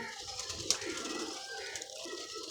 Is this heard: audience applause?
no